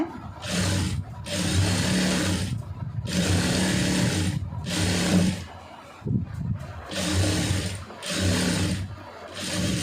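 A tailoring sewing machine stitches a neck seam in short close bursts of rapid whirring, pausing between runs as the fabric is turned, with about five separate stitching passes.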